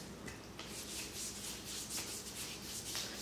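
Self-tanning lotion rubbed by hand onto bare skin of the arms, a quiet close swishing friction in repeated strokes, faint and continuous with no voices.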